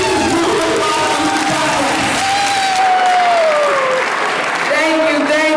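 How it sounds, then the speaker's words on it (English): Dense, sustained clapping from a school assembly crowd after a career exploration speech, loud and continuous, with a voice speaking over it near the end. "Let's give her another round of applause for her inspirational speech"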